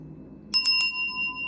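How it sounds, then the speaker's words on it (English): A small bell is struck three times in quick succession, then its bright metallic tone rings on and slowly fades, close and loud in a quiet room. "I'm feeling called to ring the bell."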